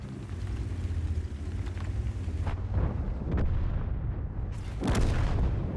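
A tank gun in the World of Tanks game, fired from the Nergal, booms with deep rumbling blasts over continuous engine and battle noise, loud and close.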